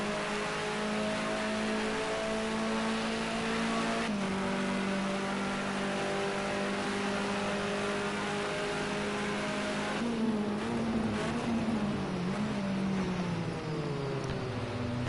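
BMW race car engine in the Project Cars 2 racing game, a GrandAm touring series session, drones steadily throughout with shifting pitch as the car accelerates and slows, loud and continuous with no talk.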